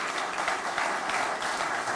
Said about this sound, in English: musicians, there's a round of applause for you